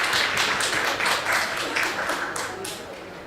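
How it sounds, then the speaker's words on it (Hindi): Applause from an audience at a Hindi Pakhwada celebration quiz, a short burst of scattered clapping that thins out, with a voice heard alongside. "तालियां।"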